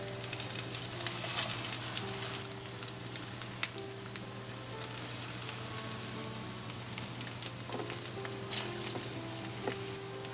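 Ham French toast roll ups fry in a pan with a steady, continuous sizzle and scattered crackles and pops, close and fairly even throughout, with no talking.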